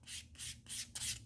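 400-grit sandpaper rubbing glue residue off leather: four quick rhythmic back-and-forth scratchy strokes, soft and close, with no talk.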